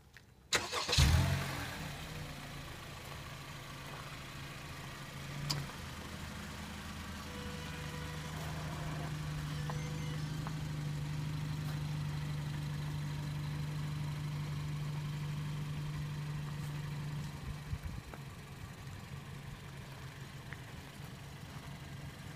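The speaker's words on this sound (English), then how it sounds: "Caution, engine starting." A car engine cranks and fires after being started remotely by a Panthera Z103 engine starter, then settles into a steady, low idle that carries on for many seconds, heard alone.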